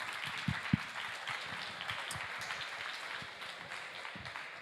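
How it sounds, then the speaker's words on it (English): Faint, steady applause from a conference audience after a panel discussion at a tech event in Berlin, soft scattered clapping heard from a distance throughout. "Round of applause, please."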